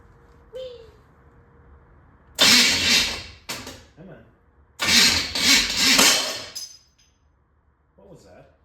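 A small block Chevy engine is cranked and tried again: two loud bursts of cranking and sputtering, each a couple of seconds long, separated by quiet, with a few brief sounds between.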